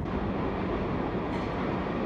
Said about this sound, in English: the train finally came after like so long, 20, 30 minutes